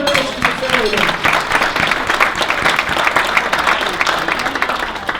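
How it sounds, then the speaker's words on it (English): An audience at a family business of the year awards event breaks into loud, sustained applause, dense overlapping claps with sharper individual hits, and voices briefly mixed in at the start. "That deserves a round of applause."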